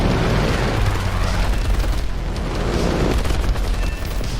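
Enemy gunners return fire in War Thunder: a loud, continuous roar of booming gunfire and explosions with a dense low rumble throughout, with no voices.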